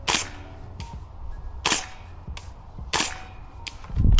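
EMG CGS DDMK18 airsoft gun with a blue barrel shooting at a target outdoors: three crisp, loud snapping shots roughly 1.5 seconds apart, each trailed by a fainter tick, with a low thump at the end.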